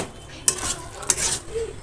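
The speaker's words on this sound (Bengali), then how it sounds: "একবার নাড়াচাড়া করে নিচ্ছি" Fried spices, salted potatoes and oil for a paneer biryani are stirred in a pan, with two sharp scrapes of the utensil over a low sizzle.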